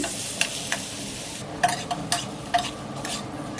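Taro fritters sizzle and fry in oil in a wok, a steady crackling hiss broken by several sharp scraping clinks of a spatula stirring.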